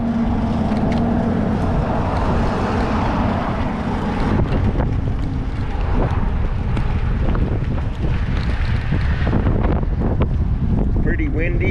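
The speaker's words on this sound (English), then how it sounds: "Pretty windy" Strong wind buffeting a microphone on a fishing bridge along the Overseas Highway bike trail, a continuous loud rumble that gusts harder midway.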